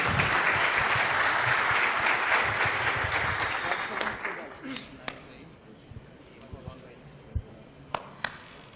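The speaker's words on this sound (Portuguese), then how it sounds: "Mais uma salva de palmas para ele aí" An audience at a PHP developer conference in Curitiba applauds, strong steady clapping that fades out after about four seconds, leaving a few isolated claps and quiet room sound.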